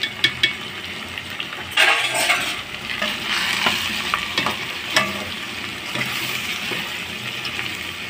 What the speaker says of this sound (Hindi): ये हमारे मसाले बहुत अच्छे तरीके से इसमें भून चुके हैं।